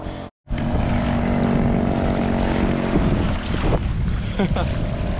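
A small 2.5 horsepower outboard motor drives a Pro Angler kayak out on open water, a steady close engine drone with wind buffeting the microphone, briefly cut off near the start.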